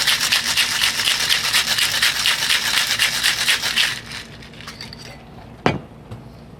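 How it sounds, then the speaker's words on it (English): A martini being shaken hard in a cocktail shaker with ice, a dense, fast rattling churn for about four seconds, then a quieter tail with a single sharp knock near the end. "We're going to give it a good shake."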